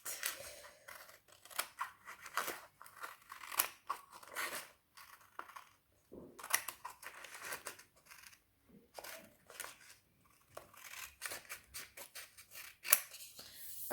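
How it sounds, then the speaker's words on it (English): Scissors snipping off excess paper while preparing a square sheet for an origami crane, a series of close, quiet crisp cuts and paper rustles in irregular bursts with short pauses between. "you're just gonna use your scissors and"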